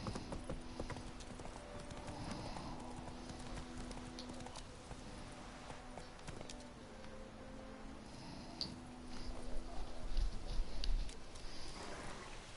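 Horse hooves clip-clop at a steady trotting rhythm in The Witcher video game, continuous and fairly quiet throughout, with a brief louder patch near the end.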